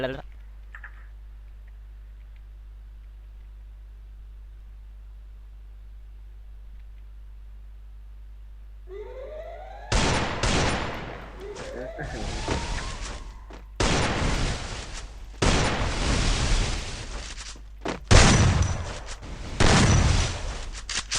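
Shotgun blasts in a shooting video game: after a quiet stretch, a loud run of booming shots breaks out, some in quick pairs, with ringing tails, continuing irregularly to the end.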